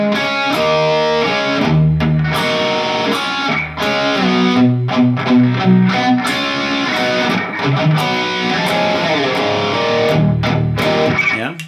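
A distorted electric guitar plays a riff slowly, a continuous run of heavy chords and sliding notes, loud and unbroken throughout.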